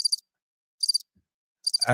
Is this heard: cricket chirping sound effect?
yes